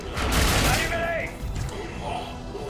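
Gunfire in the video game Mass Effect 3, a dense burst of rapid shots and booming blasts close up, loud throughout, with voices shouting over the combat.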